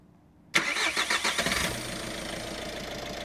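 A Peugeot 308 GTi engine cranks with a rapid chugging for about a second, catches, and settles into a steady, close idle.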